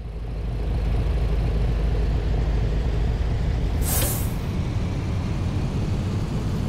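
Air brake on a bus in Fernbus Simulator, released as the handbrake comes off: one short, sharp hiss of escaping air rises briefly above a steady engine drone, with no talk over it.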